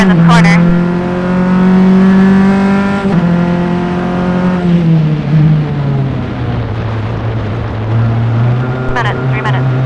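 A single-seater race car engine at a road-course race, loud and close, its whining note falling as the car slows into a corner, a shift, then easing lower through the turn with a faint high whine near the end.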